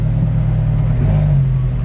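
A new car's engine idles with a light, sporty low rumble, steady and close, holding an even drone with a faint rise in pitch midway and no talk.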